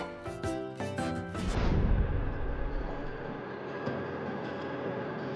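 A rumbling passenger train in western China passes close by, a heavy low roar with clanking and rattling that swells and then settles into a steady rolling drone.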